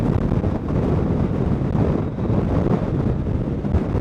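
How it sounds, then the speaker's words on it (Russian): Strong wind in Oman buffets the microphone in a steady, loud rumble with gusty fluctuations and no voices. "Здесь так задувает ветер"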